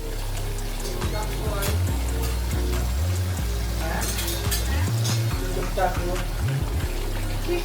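Ghee goes into a massive 10 kg Bombay biryani near the end of cooking, bringing a loud, continuous sizzle with scraping stirring strokes, while people talk over the cooking sounds.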